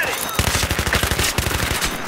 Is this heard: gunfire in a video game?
yes